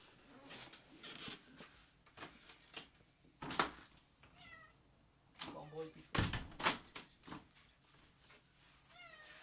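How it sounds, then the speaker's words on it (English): A house door is opened to let a cat through, with several meows and faint thuds and rattles from the door, while someone talks intermittently nearby. "I've got to open the door for the cat."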